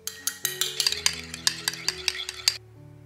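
Beaten egg is mixed into creamed butter for chocolate almond cookie dough, giving a quick series of sharp clinks and scrapes of a utensil against a bowl, close and clear, before stopping into near quiet.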